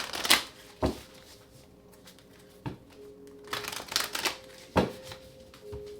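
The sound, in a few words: tarot cards being shuffled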